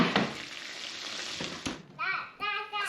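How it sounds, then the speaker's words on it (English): Steady loud sizzling of Dutch baby pancake batter in a hot pan, then a few short clattering bursts near the end. "Hear it sizzling?"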